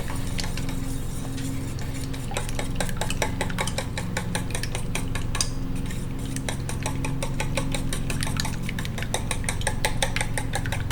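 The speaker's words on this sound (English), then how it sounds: "I'm just going to whisk, aka stir, these 2 ingredients together, making sure I break the yolks and it all comes together" A small whisk beats eggs in a bowl for strawberry crumb bars, giving a rapid, steady run of light metallic clinks and ticks that carries on without pause, close and moderately loud, with no talking.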